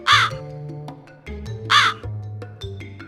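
A black crow caws twice, loud and harsh, with a pause between calls over a background of sustained musical tones.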